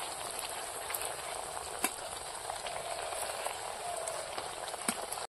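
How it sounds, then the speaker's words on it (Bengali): Wheat-flour fuchka puris deep-fry in hot oil, a dense crackling bubbling hiss held steady throughout at close range, with a few sharp pops and light clicks. "ফুচকাগুলো মা ভেজে নিচ্ছে"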